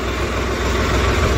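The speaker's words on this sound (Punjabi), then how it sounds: "ਖੋਲੀ ਸੀਗੀ ਰੇਸ ਟਰੈਕਟਰ, ਦੇਖਦੇ ਹਾਂ ਇਹਨੂੰ" A Swaraj 855 tractor engine idles close by, a steady, loud, low diesel rumble with an even beat that runs unbroken throughout.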